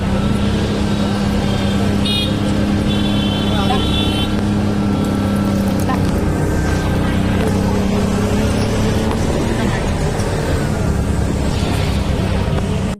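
Auto rickshaw ride through busy traffic, its engine droning steadily up close with road noise, passing vehicles and a brief horn toot, while people talk throughout.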